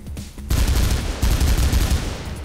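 After a brief quieter moment, loud bursts of rapid, close gunfire erupt from weapons in the game Mirror's Edge and continue as dense volleys.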